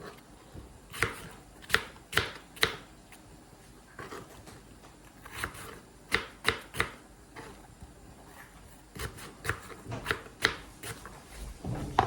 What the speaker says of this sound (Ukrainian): Тим часом нарізаю яблука на дрібні шматочки